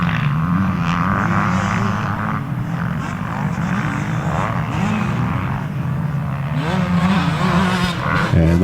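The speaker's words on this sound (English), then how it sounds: "here comes the 573 of Horton down the left-hand side" Number 573 motocross bike racing at a speedpark track, engines droning loudly and steadily with rising and falling revs as riders pass, continuous and close throughout.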